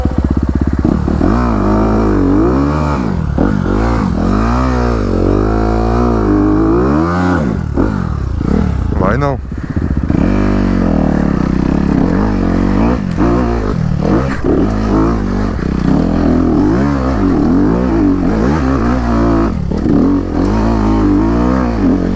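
A Honda CRF 250RX dirt motorcycle ridden hard, its engine loud and close, revving up and down through the gears in repeated swells with rattling and clatter over about twenty seconds.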